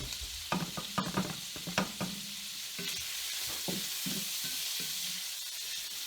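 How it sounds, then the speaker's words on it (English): Minced garlic sizzling and frying in saved bacon grease in a home kitchen pan, a steady close hiss broken by a few clinks and scrapes of stirring near the start. "And we want to just saute the garlic."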